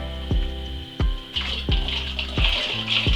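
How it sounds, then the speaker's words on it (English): A thick honey and chocolate solution for cocoa nib mead is poured through a funnel into a demijohn. It gives a steady run of liquid with heavy glugging pulses about once a second, close and clear. "pour this lovely honey chocolate solution into the demijohn"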